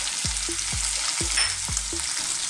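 Beef fries with garlic in a hot pan, a dense steady sizzle running throughout, while a utensil scrapes and stirs in four regular strokes about half a second apart.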